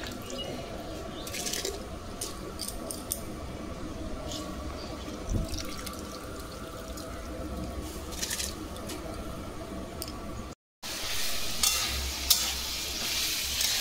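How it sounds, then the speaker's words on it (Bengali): Vegetables sizzle and fry in a pan on a gas stove while being stirred, a steady crackling hiss broken by scraping and clinking, with brief dripping and a short gap near the end. "এখানে হচ্ছে সবজিগুলো ভাজা হচ্ছে সব"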